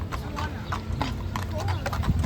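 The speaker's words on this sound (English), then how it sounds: "Look at these horse carts, Adi" Hooves of carriage horses clip-clop along a busy Central Park path in New York, a steady nearby trotting rhythm with crowd chatter and voices talking over it.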